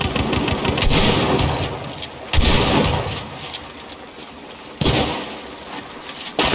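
Gunfire in the video game Hunt: Showdown comes as a few sharp, loud blasts spaced seconds apart, each followed by a short decay, over a steady background rumble.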